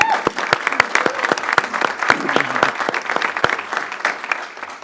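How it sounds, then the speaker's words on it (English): Applause fills a school board meeting room, dense rapid clapping from the audience that holds steady for about five seconds with faint crowd murmur beneath. "Can we give her a round of applause?"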